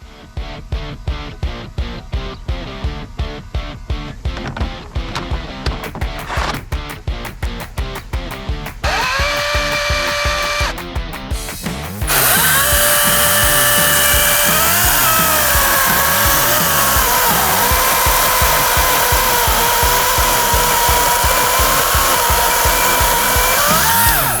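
A Wild Badger chainsaw, revving around 5,500 RPM, cuts through wood: a loud, close two-stroke engine first pulses in rapid bursts, then settles into a sustained high, strained roar as the chain bites.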